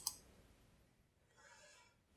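A single sharp mouse click on an on-screen button during email account setup in Outlook, close and distinct, followed by faint hiss and a soft breathy sound.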